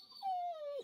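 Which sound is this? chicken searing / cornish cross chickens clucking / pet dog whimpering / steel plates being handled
pet dog whimpering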